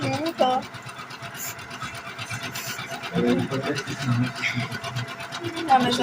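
An embroidery machine stitches with a steady fast mechanical whir that runs throughout, close and fairly loud, while a person talks over it.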